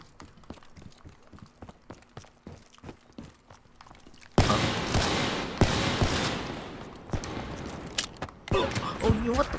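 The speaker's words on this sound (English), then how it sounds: "That was a wall banging hit marker." Gunfire in Black Ops 3 during a 1v1 match, with a wallbang hit marker: scattered sharp cracks at first, then a sudden loud burst of sustained shooting and impacts, with voices talking over it.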